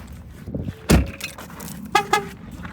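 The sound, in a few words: Ford Escape Plug-In Hybrid beeping twice as keys detected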